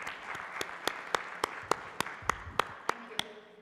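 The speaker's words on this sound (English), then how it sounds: "Can I hear a round of applause for our speakers?" Applause from a conference audience after a panel of speakers, a thin scatter of separate hand claps landing at an uneven pace, fairly soft and sparse, with no talk over it.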